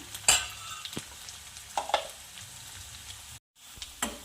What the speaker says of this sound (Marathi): आणि कढीपत्ता पकू द्यायचं याला